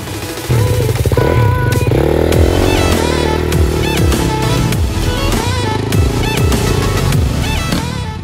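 Dirt bike engines, a 350 SXF and a 450 CRF, rev and ride off nearby. Loud, continuous engine noise rises and falls with throttle blips across the whole stretch.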